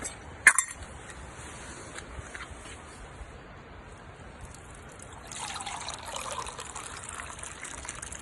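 Water trickles and pours at a campfire while a brew of tea is made, faint and close, opening with a small clink and ending in a louder, steady stream.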